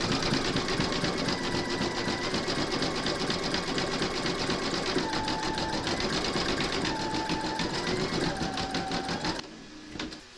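An embroidery machine zigzag-stitches around the outline of a large skeleton applique, a loud, close, rapid rhythmic needle chatter with shifting motor pitch that stops near the end.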